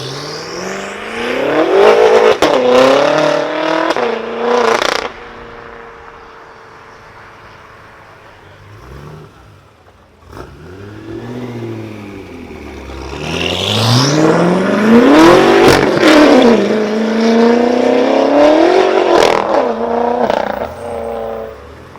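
A BMW sedan's 4.4-liter V8 engine revs hard with a deep growl, rising and falling in pitch over two loud bursts separated by a quieter idling stretch.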